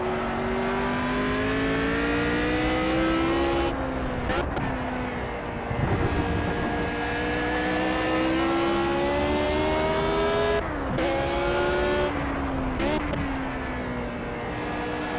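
The engine of a Lotus Type 25 Climax race car in Project Cars howls at high revs on the Nurburgring, pitch climbing through the gears with brief dips at each shift, loud and continuous under wind noise.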